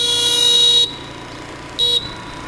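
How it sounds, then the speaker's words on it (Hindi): A scooter horn gives two short toots, the first longer and the second a quick blip, loud and close with a bright electric tone. "हॉर्न कहाँ से देते हैं? यहाँ से।"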